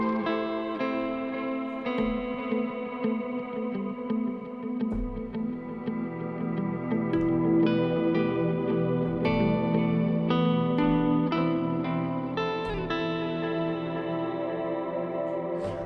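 Cinematic guitar strums from a sample pack ring out in a steady series of full, sustained chords with a dry, unprocessed tone, each strum blending into the next without voices over them.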